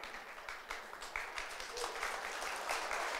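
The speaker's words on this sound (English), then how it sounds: "Now, we give you a round of applause" Church congregation giving a round of applause at a Christmas service, steady soft clapping heard at a distance, fairly quiet and continuous throughout.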